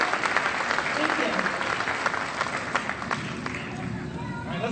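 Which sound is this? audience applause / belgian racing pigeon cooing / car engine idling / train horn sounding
audience applause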